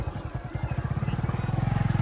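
A motorcycle engine thrumming close by, its rapid pulsing putter steadying and building as the bike pulls away.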